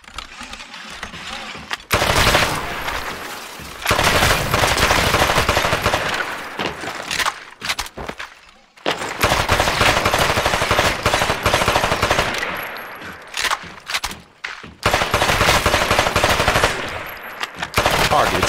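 Weapon fire rattles through long, loud automatic bursts at shooting range targets in the video game Titanfall, separated by brief pauses and single shots.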